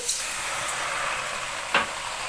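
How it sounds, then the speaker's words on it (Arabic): A pan of live crab cooking on a home gas stove gives off a steady, bright sizzle as a spoon of vinegar is added. The hiss stays constant and close, with one brief sharper flare near the end. "هحط بقى معلقه الخل"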